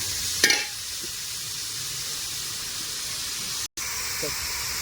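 Sliced onions with salt sauté in a hot pan as the base for a mutton dum biryani. A steady, close sizzling hiss runs throughout, with a sharp clink near the start and a brief dropout later.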